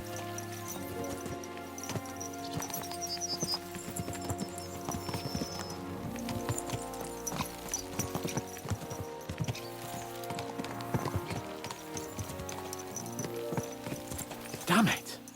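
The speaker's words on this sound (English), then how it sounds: "Let's really spur these horses on, eh?" Horses galloping in the video game Kingdom Come Deliverance II, rhythmic hoofbeats clopping steadily under game music, with a louder burst near the end.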